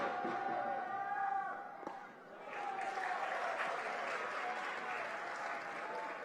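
Crowd noise from the third base side at a 2019 IHSA Class 4A state championship high school baseball game, sustained clapping and cheering from the dugout with commentary voices mixed in.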